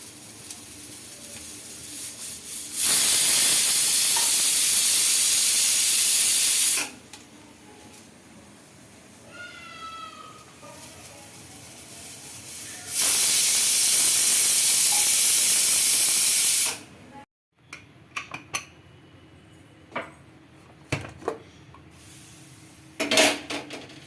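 A pressure cooker with a masala curry of broad beans lets out two loud, steady steam whistles, each a hissing blast of about four seconds. Quieter kitchen clatter fills the gaps between and after them.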